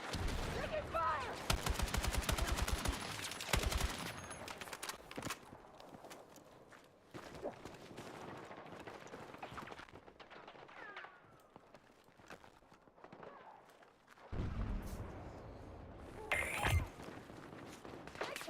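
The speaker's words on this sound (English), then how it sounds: "Taking fire!" Gunfire in a first-person video game, with loud rapid bursts of automatic fire up front, a quieter stretch of scattered shots and footsteps, then renewed heavy bursts near the end.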